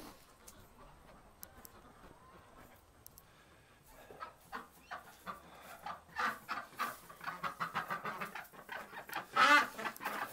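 Ducks on a farm during cold late-November morning chores call with repeated quacks and clucks, faint at first and then growing louder and busier, closer to the microphone, with no talking.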